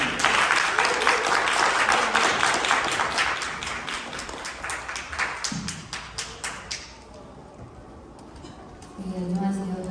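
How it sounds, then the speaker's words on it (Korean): Audience applause greets an author at a book talk, a roomful of hands clapping briskly and loudly for several seconds, then thinning into a few scattered claps before fading to quiet room noise and a voice starting to speak. "박수를 먼저 해주시면 감사하겠습니다."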